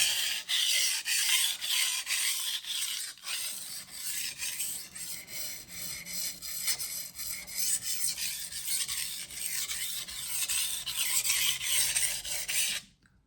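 A knife blade stroked along a sharpening stone with very light pressure, a steady run of close, even rasping passes that pause briefly near the start and stop cleanly at the end, with no voice over it.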